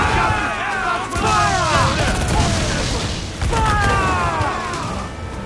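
Ship cannons boom in a naval battle in Assassin's Creed IV: Black Flag, a rolling series of heavy blasts and crashes layered with shouting crew voices and whistling game effects.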